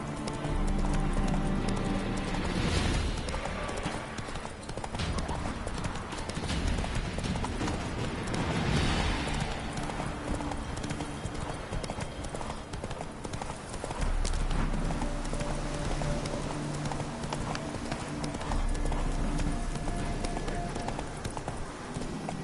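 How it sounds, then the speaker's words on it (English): A horse gallops in The Witcher 3: Wild Hunt, a steady rhythmic clip-clop of hooves running continuously at close range for the whole stretch, with an occasional faint whinny in the game's ambience. "Run, Roach."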